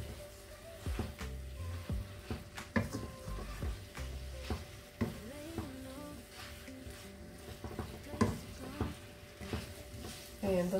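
Chicken ramen noodles with sweet and sour soya sauce sizzling in a pan while being stirred, a low steady fry under clinking and scraping of the utensil, moderately close.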